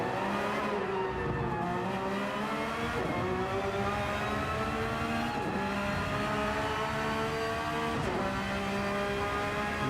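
Onboard engine note of a Porsche 992 race car in Gran Turismo 7 at Yas Marina, a loud continuous high-revving drone with rising pitch sweeps and quick drops at each gear change, no talk.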